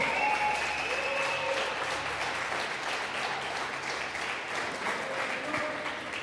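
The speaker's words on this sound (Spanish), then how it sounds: "dale un fuerte aplauso" A church congregation gives a loud, sustained round of applause during a worship gathering. Dense, steady clapping fills the whole stretch and eases only slightly toward the end.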